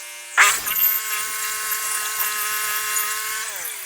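A sawmill blade bites into a log to take a flitch, starting with a sharp attack and then holding a steady high whine that drops slightly near the end.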